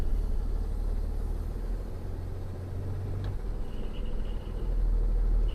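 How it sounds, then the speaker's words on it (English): A truck rolls forward slowly at about five miles an hour during a pre-trip service brake test, its engine a steady low rumble close by, with a faint brief knock partway through and no talk. "I'm going to move forward at 5 miles an hour with my hand loosely on the steering wheel."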